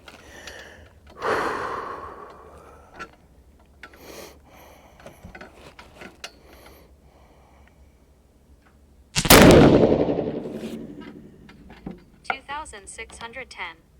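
Rifle gunshots fired over an Athlon Rangecraft chronograph on a shooting range, one loud sharp blast near the middle with short reports and rustling before it, followed by a long decaying echo.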